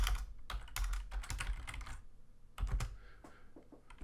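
Quick clusters of keystrokes on a computer keyboard as a post title is typed, close and clear, with short pauses between bursts.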